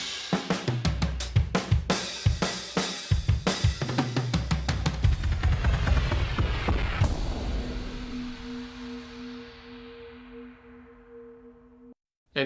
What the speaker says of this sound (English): Layer that with the drums, it sounds like this.